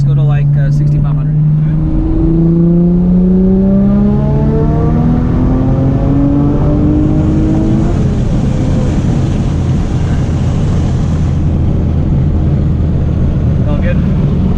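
Turbocharged 2001 Audi B5 S4 with Tial 770 turbos pulling hard in third gear, a loud close engine note climbing steadily in pitch through the rev range under heavy wind and road roar, then easing off near the end.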